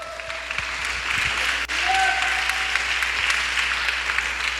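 Church congregation applauding during a midweek worship service, dense steady clapping filling the room at moderate loudness, with faint whistles or voice tones rising briefly over it.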